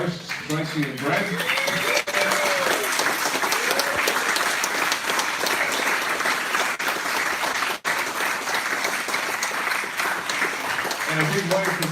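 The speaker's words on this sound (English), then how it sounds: "And a round of applause for our hosts, Tracy and Brad." A live audience at a talk in Currumbin, Queensland gives a steady round of applause for the hosts, dense clapping throughout with a voice speaking over it.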